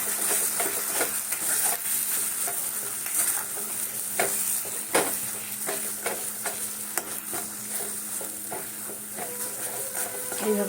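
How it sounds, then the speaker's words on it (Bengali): Pitha filling of milk and ghee stirred in a hot pan, with repeated scraping strokes of a spatula over a constant sizzle, close and fairly loud, with no talk. "এইভাবে নাড়তে নাড়তে একটু শক্ত হয়ে আসবে"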